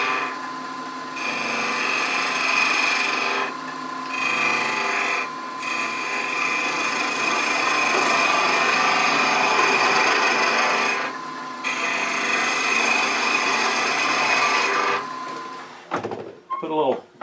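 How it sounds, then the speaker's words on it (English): A wood lathe spins a wooden box while a tool chamfers one side, a loud sustained scraping hiss broken by short pauses as the cut lifts off, with a motor whine beneath, and someone talks briefly near the end. "I'm going to turn this side down, just chamfer it in just a little bit"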